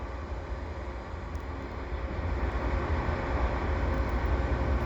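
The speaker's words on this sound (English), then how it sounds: "So I see a train coming here at the Dorval ramps" An eastbound CP freight train rolls past the Dorval ramps on a winter day as a close, continuous rumble that grows louder, with no one talking.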